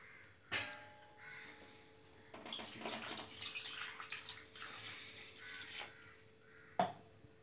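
Water poured into a cooking vessel of raw jackfruit pieces, a soft, steady splashing that runs for several seconds between sharper clinks at the start and end.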